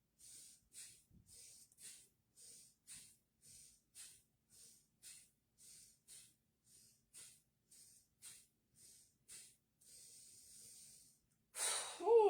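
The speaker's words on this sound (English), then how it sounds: "Nice deep breath." Steady rhythmic breathing during a breathwork exercise: about twenty short, evenly spaced breaths in a row, soft and airy, close to the microphone, ending with a louder, longer rush of air.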